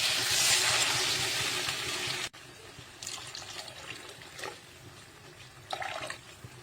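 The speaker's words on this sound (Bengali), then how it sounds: "আমি এখন দিয়ে দেবো পরিমাণ মতো জল" Water pours steadily into a cooking pot for about two seconds, then stops abruptly, followed by a few quieter splashes and trickles.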